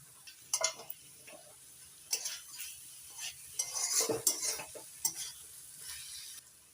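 Chopped tomatoes with spices sautéed in a pan for ghugni, with repeated sharp clinks and scrapes of a spoon against the pan over a faint low sizzle, in uneven bursts close by.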